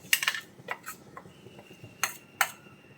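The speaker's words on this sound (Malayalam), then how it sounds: "അരപ്പ് ചേർത്തിട്ട് നമുക്ക് നന്നായിട്ടൊന്ന് മിക്സ് ചെയ്ത് കൊടുക്കാം." A spoon stirs ground paste into beetroot pachadi in a pan. Sharp metallic clinks and scrapes come in a few separate bursts, with quieter stirring between them and no talking.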